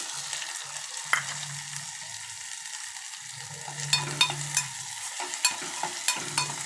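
Chopped onion hitting hot oil seasoned with asafoetida, frying with a steady soft sizzle while a spoon stirs and scrapes the pan in a few short, sharp strokes, close and alone without talk.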